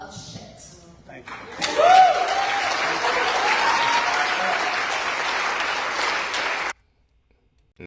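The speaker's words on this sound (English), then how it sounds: "And they clapping." An audience breaks into sustained applause, a dense, steady wash of clapping with a brief whistle near the start, holding for several seconds before cutting off abruptly into silence.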